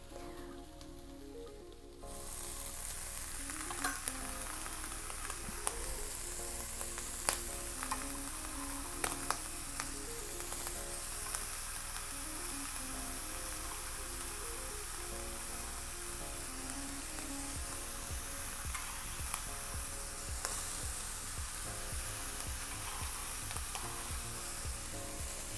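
Potatoes, onions and ham frying together in an AMC pan for a hearty farmer's breakfast, a dense, even sizzle close up with occasional taps and scrapes of stirring, no talking.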